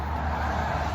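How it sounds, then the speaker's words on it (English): Traffic on a busy highway next to a trail rushes by in a steady hiss of tires and engines, moderately distant and faint, without talking. "You can hear the cars going by."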